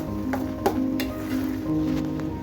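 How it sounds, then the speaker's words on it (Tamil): Sugar-free carrot halwa being stirred in a pan, a steady soft sizzle with scraping strokes of a spoon against the pan, close and alone. "நல்லா அடி பிடிக்காத அளவுக்கு கிளறி விடணும்"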